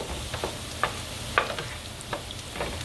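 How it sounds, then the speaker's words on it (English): A spoon stirs pepper and onions through home fries in a hot pan, with scraping strokes every half second or so over a constant close sizzle. "Now make sure I mix the pepper and onions in it real good"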